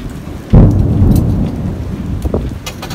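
A sharp thunderclap bursts in and rolls into a deep rumble over steady rain pattering on surfaces, loud and close, heard from aboard a boat.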